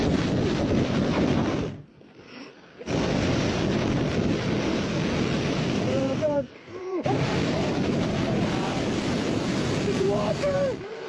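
Ocean waves wash in a loud, continuous rush of surf mixed with wind buffeting the microphone, cut by two brief near-silent gaps, with no talking.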